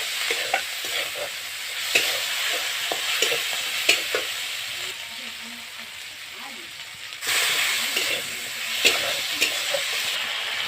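Chicken masala with tomatoes frying in a pan: a steady close sizzle with repeated scraping stirs of the spoon, brief quieter stretch midway, then the hiss swells again.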